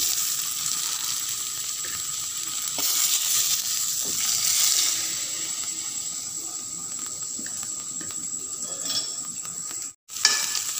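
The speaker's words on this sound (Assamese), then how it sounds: "আৰু আলুখিনি ভাজি ল'ম" Potato pieces fry in hot oil with turmeric in a pan, producing a constant close hiss and sizzle with light stirring scrapes, then a brief cut in sound near the end followed by a sharp clatter.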